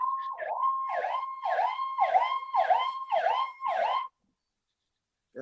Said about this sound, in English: Shield was just coming down the street and they had the sirens on.